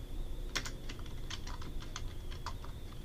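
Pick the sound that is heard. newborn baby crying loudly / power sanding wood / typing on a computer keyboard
typing on a computer keyboard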